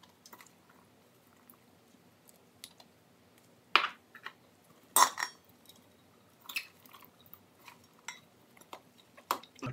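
Jalapeño and banana peppers being pressed tightly into a glass jar, a quiet scatter of clicks and soft knocks with a few louder taps, close-up and sparse, with no voices.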